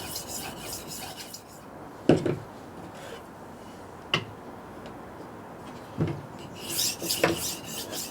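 A knife hones on the honing side of a Horl 2 rolling sharpener, a continuous faint rasping rub broken by a few sharp clicks and knocks.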